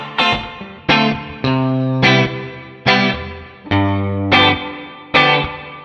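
Electric guitar pushed through a drive pedal into Universal Audio Ocean Way amp and cabinet simulations, eight loud distorted chords struck in a steady rhythm, each ringing out, with no voices.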